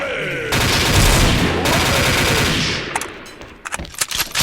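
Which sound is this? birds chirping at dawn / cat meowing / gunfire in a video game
gunfire in a video game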